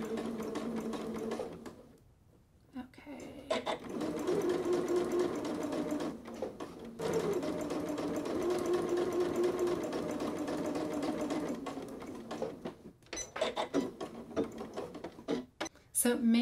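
A domestic sewing machine runs in long steady bursts while stitching piping into a fabric seam without a piping foot, its fast rhythmic whirr stopping briefly between passes, loud and close.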